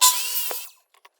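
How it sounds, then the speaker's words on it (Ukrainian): An aluminium profile cut to length with a saw: one short, bright metallic whine that fades within a second, followed by a few faint clicks. "Беремо наш алюмінієвий профіль і відміряємо 250 мм. Відрізаємо."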